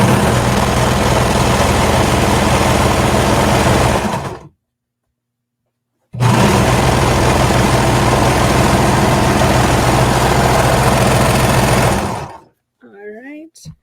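A sewing machine runs in two long, loud, steady bursts with a short pause between them, stitching a quarter-inch seam down a jacket sleeve toward the cuff, and a voice begins speaking as the second run stops.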